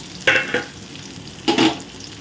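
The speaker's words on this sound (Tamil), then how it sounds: "வெங்காயம் நல்லா வதங்கிடுச்சு" Large onions sizzle steadily in a hot pan, with two louder scraping bursts as they are stirred, close by and without talk.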